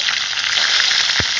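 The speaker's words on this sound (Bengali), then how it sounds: "ভেজে নেব" Eggs frying in hot oil with turmeric and salt, a steady dense crackling sizzle held close and loud throughout, with a brief low knock near the end.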